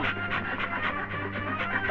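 Rapid, hard panting breaths in a restaurant movie scene, a quick regular rhythm of short huffs, close and steady throughout.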